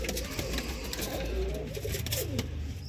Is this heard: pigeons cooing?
yes